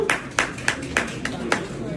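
An audience at a school gathering in Bangladesh claps in a brisk, even rhythm of about six distinct claps, with voices speaking over the applause.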